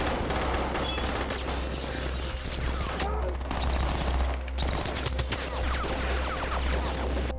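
Heavy gunfire rattles from many directions in a Nazi-era war film battle scene, a continuous dense fusillade of shots and bursts with booming impacts, loud and close throughout.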